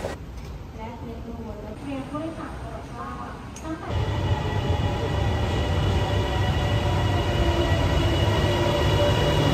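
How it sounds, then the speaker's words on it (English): Airport rail link train in Thailand, a steady rumbling hum of wheels and motors that swells louder partway through the ride, with people talking over it early on. "So go up and hop on the train."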